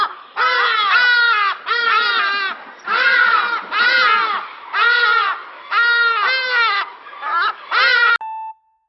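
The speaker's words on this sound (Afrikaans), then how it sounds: "ken julle 'n hadida?" Hadeda ibis giving loud, harsh, nasal wailing calls, several drawn-out bursts in a row with short gaps, close and dominating the quiet background.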